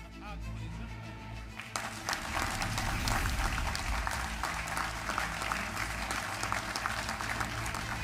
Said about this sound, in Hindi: यही वो पल है जब तालियों से पूरा भारत मंडपम गूंज उठा।